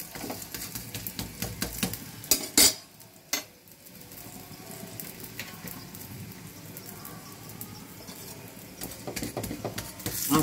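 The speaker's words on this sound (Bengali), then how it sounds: "কিন্তু আমি একটুখানি তেলটা দিয়ে ভেজে দিচ্ছি।" Stuffed vegetable roti frying in a little oil, a steady soft sizzle running throughout with a few sharp clatters of a spatula or pan near the start.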